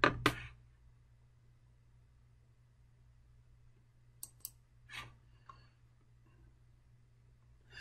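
Sparse computer mouse clicks while downloading a file on a PC, a sharp pair of clicks at the start, then a few soft isolated clicks later, faint and close in an otherwise quiet room.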